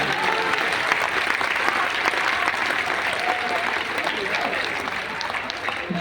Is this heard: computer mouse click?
no